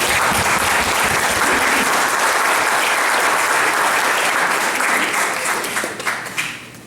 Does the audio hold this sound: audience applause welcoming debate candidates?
yes